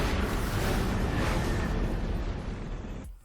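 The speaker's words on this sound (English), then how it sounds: "was that a CGI explosion?" A loud, sustained rumbling CGI film explosion with broad roaring noise that fades after a few seconds.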